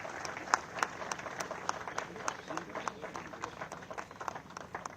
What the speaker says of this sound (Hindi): आइए जोरदार तालियों से अभिवादन करें इन अद्भुत पलों का